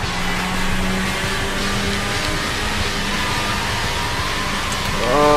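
A racing car engine in Sega GT 2002 drones hard at high revs, chasing a Chevrolet Camaro Z28 down a straight, with a steady tonal whine and road roar that rises in pitch near the end.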